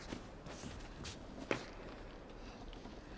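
A boy's footsteps in the dark side-scrolling video game INSIDE sound as soft, quiet steps in a sparse, hushed soundscape, with one sharper scuff partway through.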